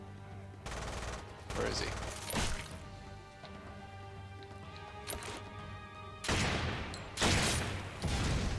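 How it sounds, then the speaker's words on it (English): Gunfire in the online shooter Lost Planet 2, loud bursts of automatic fire arriving in several separate volleys, with a player briefly speaking between them. "He just shot me while he was jumped in the air."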